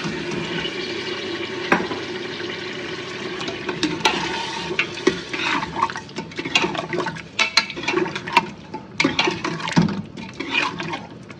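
About half a kilo of chicken fries in a spiced pan over raised heat, a steady sizzle broken by clattering stirs and scrapes of a spoon against the metal, close and loud with no voices.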